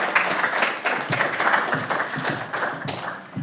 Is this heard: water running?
no